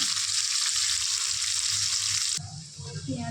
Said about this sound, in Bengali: এবার পেঁয়াজগুলো ভালোভাবে খুন্তি দিয়ে নেড়ে দেবো।